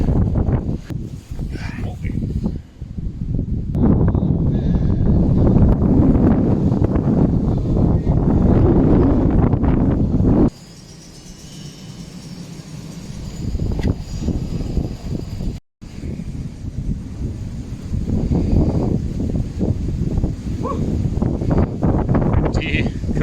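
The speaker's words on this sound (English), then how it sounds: "I don't think the video turned out as well as it could because of all that wind noise" Strong wind buffets the microphone at a camp beside a ruined farm, a loud rushing roar that drops away briefly midway and then gusts back up, with faint voices now and then.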